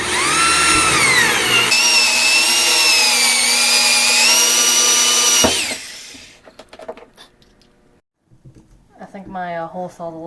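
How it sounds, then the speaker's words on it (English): A loud, steady whine of a power drill driving a slightly dull 1-inch hole saw through plastic drain pipe for several seconds, then stopping abruptly, followed by scattered clatter and a voice. "now I'm going to drill a 1-inch hole at 3 inches and 5 inches in my drain back pipe"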